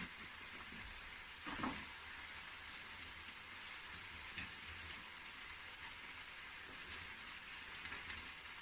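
Cabbage is added to a pan of hot oil for a Bangladesh-style vegetable curry, with a brief rustle and thump as it drops in, then a faint, steady sizzle.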